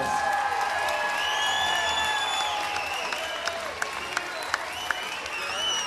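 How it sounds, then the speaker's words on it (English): A fight crowd applauds and cheers both fighters after a three-round bout, a continuous roar of clapping and whoops with sharp tonal calls rising over it, and a few louder claps standing out near the end. "let's give both of these warriors a big round of applause"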